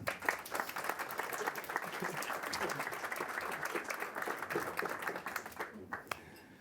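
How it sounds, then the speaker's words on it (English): A conference audience applauds a speaker introduced at a software testing talk. The clapping is full and sustained from a moderately distant crowd and cuts off abruptly near the end. "Please give a round of applause to Sebastian."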